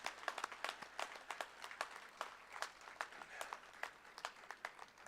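Light, scattered applause from an audience at a tourism summit event in Gujarat, distinct individual claps in an uneven patter, fairly distant and faint, with no talking over it.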